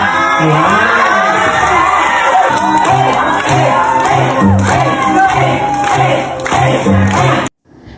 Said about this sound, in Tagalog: Sa kanyang pagsayaw, maraming pumapalakpak at nag-cheer sa kanya.